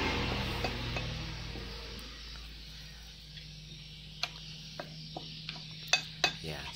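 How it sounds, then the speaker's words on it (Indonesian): Lobster being stirred in a pan with chili, lime and soy sauce: faint, steady scraping and sizzling, with a few sharp utensil clicks against the pan toward the end. "Ya, kita aduk hingga merata."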